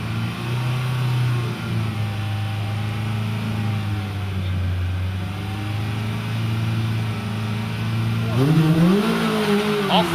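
Honda Integra race car idling at a hillclimb-style start line, its engine humming steadily before revving sharply near the end, with a commentator talking over it.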